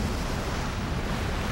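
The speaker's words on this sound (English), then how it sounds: "you hear the waves and wind and everything else outside" Waves and wind rumble outside an undersea concrete cylinder, a dense, steady roar of surf with wind noise, loud and unbroken throughout.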